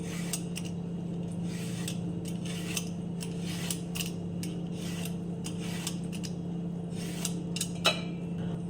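A knife peeling the skin off a kishu vegetable: repeated short scraping strokes at an irregular rhythm, close and fairly quiet, over a steady low hum, with no talking.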